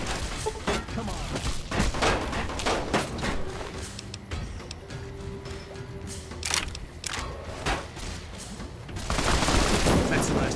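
Bursts of gunfire crack out in a Fallout New Vegas shootout, a rapid fusillade of sharp shots and thuds, irregularly spaced and loud, with a heavy burst of fire near the end.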